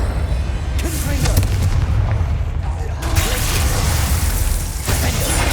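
A Confringo fire spell blasts in Hogwarts Legacy: a loud, dense booming roar with whooshing fire that fills the whole clip, swelling in bursts and never dropping to quiet.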